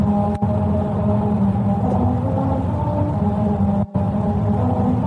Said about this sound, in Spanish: Vas circulando por ellas y el relieve hace que suene música.